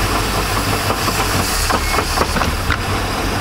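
A boat's outdrive engine runs loud and rough as it struggles to go into reverse gear, giving a steady, heavy drone with uneven knocking pulses throughout.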